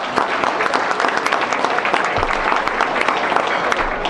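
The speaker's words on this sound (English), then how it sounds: "So big round of applause for the co-chairs." Audience applause fills a speech event, a steady dense clapping from a sizeable crowd that runs unbroken throughout, fairly loud and close with no voices over it.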